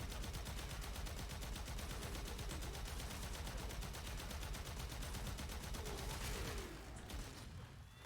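An archgun in a video game fires a sustained rapid stream of shots, a dense steady rattle lasting several seconds before cutting off near the end, with no talk.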